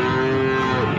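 A short, loud moo from Simmental or Limousin cattle at a livestock market, a single sustained bovine call heard up close.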